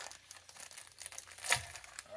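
Tape is pulled off the plastic bag of a Tamiya TT-02 kit, a soft crinkling rustle of thin plastic close by with one sharper tearing crackle midway, fairly quiet throughout.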